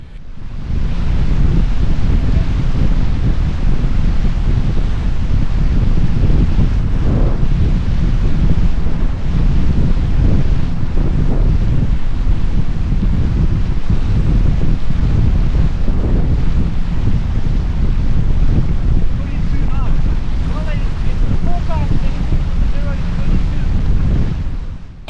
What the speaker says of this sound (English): here comes the 20-knot wind